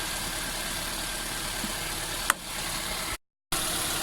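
A used car engine idles steadily and evenly right after starting, a continuous close hum with one brief click and a short gap of silence near the end.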